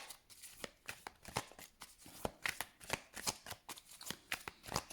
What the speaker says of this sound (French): On va aller chercher 2 cartes.